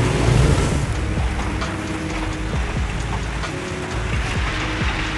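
Steady rain falling outdoors, a dense continuous hiss and patter that holds at an even level throughout, with faint clicking knocks scattered underneath.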